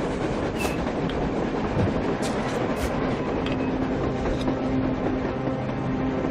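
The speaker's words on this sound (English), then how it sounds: "A train! A damn train on the surface!" A train runs on the surface in the video game Metro Exodus, rumbling steadily with rhythmic clickety-clack of wheels over rails and a few brief metallic high squeals.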